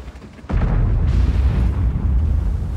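A tank cannon fires at a T-30 in the video game World of Tanks, a sudden loud boom with a low rumbling tail that stays heavy and sustained after the blast.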